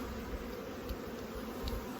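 Honey bees hum in a steady, dense drone around an open hive during spring farm work, the continuous buzz holding even and close throughout with no talk.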